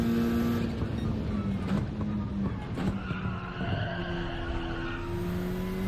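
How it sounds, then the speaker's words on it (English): Racing cars in Gran Turismo 7 let out drawn-out tyre squeals over a steady engine drone, the screeches rising and falling across several seconds, loud and close with no talking. "I'm hearing like way more tyre squealing"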